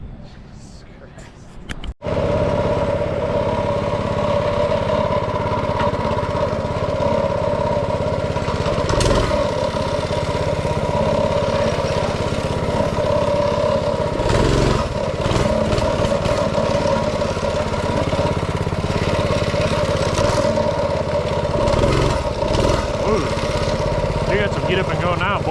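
A small go-kart or mini bike engine runs steadily close by, a continuous buzzing drone with occasional clattering bumps, while people talk over it.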